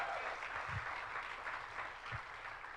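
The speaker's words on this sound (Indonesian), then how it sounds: "Ayo dong, kasih tepuk tangan yang meriah buat Tuhan." Applause from a church congregation during a worship service, a steady wash of many hands clapping together at moderate loudness, continuous and fairly distant throughout.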